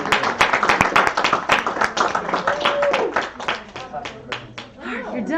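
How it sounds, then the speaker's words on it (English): An adult Bible study group claps in uneven bursts, close and lively, with talk and light laughter mixed through the applause. "You guys give me a round of applause."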